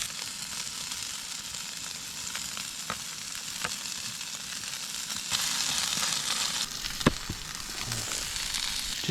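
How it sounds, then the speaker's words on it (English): Steak sears on campfire coals outdoors with a continuous close sizzle and crackle, plus a few sharp pops and a louder snap near the end, and no talking. "Just taking the steak off the coals."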